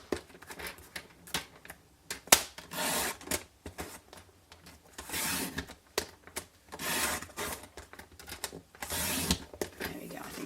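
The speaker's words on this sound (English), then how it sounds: "Or you just keep going until you can't hold it on the trimmer anymore." A paper trimmer slices through cardstock in a quick series of scraping, swishing cuts, each burst short and close, separated by brief pauses.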